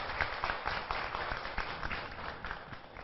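Sustained applause from a crowd at an anniversary celebration, dense steady clapping throughout at moderate distance.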